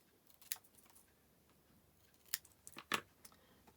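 Scissors snip off the loose ribbon ends of a finished bow on a snowflake gift box, a few quiet, close crisp cuts clustered together with short gaps between them.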